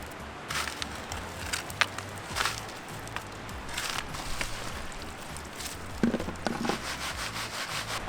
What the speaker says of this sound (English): we're gonna pull the material out of here, throw it in the bucket